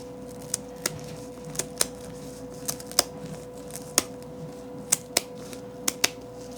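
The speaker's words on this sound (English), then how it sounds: "These are our bandage scissors that we can use on their feathers." Bandage scissors snip a chicken's primary and secondary wing feathers in an animal hospital, about a dozen crisp, separate clicks spaced unevenly over a quiet background hum.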